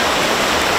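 Fast, heavy river current rushing in a steady broadband roar, close and loud, with no voices.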